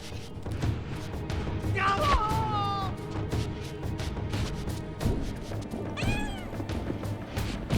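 A cat meows twice, each call a rising then falling wail, set against steady background noise and faint clatter during a video game session.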